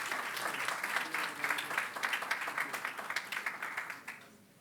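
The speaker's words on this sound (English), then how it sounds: "give a round of applause again to the speakers in the opening session" Audience applause at a Japan–AfDB forum on energy access in Africa: a sustained, dense wash of clapping from a crowd for the opening-session speakers, steady at moderate loudness before tapering off near the end.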